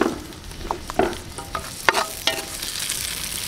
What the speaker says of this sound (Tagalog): Magigisa muna tayo. Bawang. Sabay na natin tong ano,